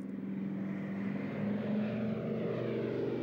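A Douglas DC-3 propeller airliner drones steadily overhead, its piston engines giving a low, even hum with a faint throb, moderately distant and alone.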